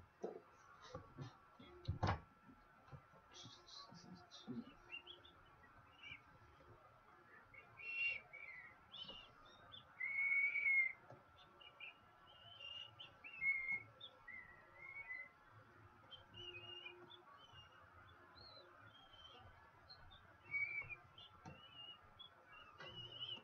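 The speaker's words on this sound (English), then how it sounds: "I finally learned how to whistle." A person whistles a few short, faint, high tones in scattered bursts over a quiet room background, with gaps of near silence between phrases.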